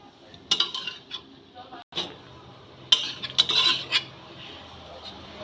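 Greens being stirred and mixed with vegetables in a pan, with metal utensil scrapes and clinks against the pan in irregular bursts, fairly close, with no talk.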